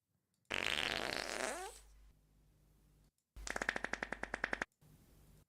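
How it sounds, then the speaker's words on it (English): Cartoonish fart sound effects play loudly: a long sputtering blast, then a rapid string of sharp popping toots, then a short final burst, each separated by quiet gaps. "These are the worst fart sounds."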